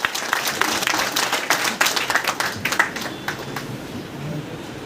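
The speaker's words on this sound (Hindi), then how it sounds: "तो मैडम के लिए एक बार फिर से जोरदार ताली हो।" A crowd applauds at a freshers party, with dense, steady clapping loud at first and then tapering off over several seconds.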